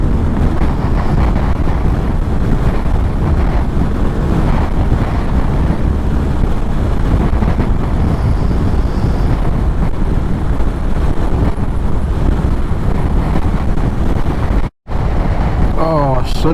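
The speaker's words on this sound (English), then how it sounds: "Oh, it's windy up here." Loud, steady wind buffeting the microphone on an exposed hilltop during a motorcycle ride toward Whitby, a continuous low roar that fills the whole stretch and cuts out abruptly for a moment near the end.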